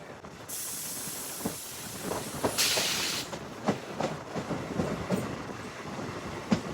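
The Renigunta–Nellore MEMU passenger train 67204 halts at a station where there is no platform, with rumbling wheels, a loud hiss of air brakes and scattered clanks and clicks of the coaches nearby.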